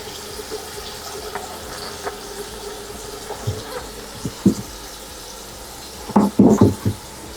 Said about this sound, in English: As you see, the water draining perfectly.